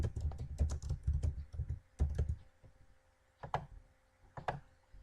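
Quick bursts of clicking from a computer keyboard as code is typed for a Python test on Windows, with clustered keystrokes at first, then a pause and a few scattered presses, close and moderately loud with no one talking.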